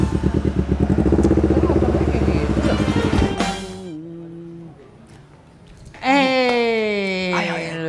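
A big motorcycle engine rumbles loudly and close for about three seconds with a throbbing, revving texture, then cuts off, leaving quieter tonal sounds and a sudden wailing tone near the end.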